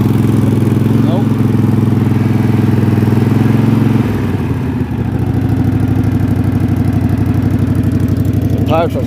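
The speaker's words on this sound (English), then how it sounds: "The tires are spinning. Well, this is one thing I hate about this Craftsman tractor" Craftsman lawn tractor engine revving hard on dirt with its tires spinning, a loud steady mechanical drone that dips briefly midway, then surges back with clattering.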